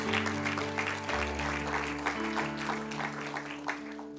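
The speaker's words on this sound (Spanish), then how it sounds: "Póngase de pie y vamos a darle un aplauso al Señor." Church congregation standing and applauding, a sustained broadband patter of many hands over a steady sustained organ or keyboard chord that shifts partway through.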